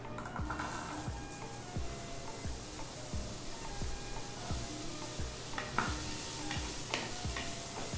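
Mango pieces for a katki pickle are stirred through hot spiced oil in a pan, giving a steady, rhythmic scraping stir over a soft continuous sizzle, close and alone with no voices.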